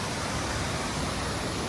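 Man-made waterfall in Wichita Falls, a 52-foot structure, giving a steady, dense rush of falling water that fills the whole moment evenly, with no breaks or voices.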